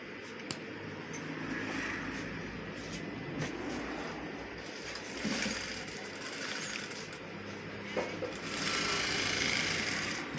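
Sewing machine stitching a senator-style pattern pocket, a steady continuous motor whir and needle chatter running the whole time with slight surges, close and fairly loud, no talking.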